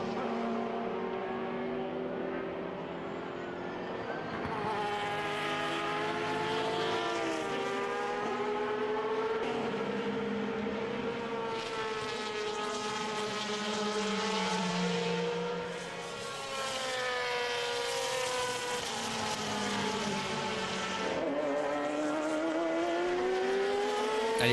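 Race cars, among them a BMW, roar past in a European Le Mans Series race, with loud engine howls rising and falling through gear changes as several cars pass in turn.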